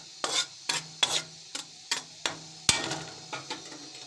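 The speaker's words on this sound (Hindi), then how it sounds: "आटे को हम 2 से 3 मिनट के लिए भून लेंगे।" Wheat flour being roasted in a pan for chicken nihari gives about ten quiet, close, evenly spaced scraping taps of stirring against the pan, each followed by a soft faint sizzle.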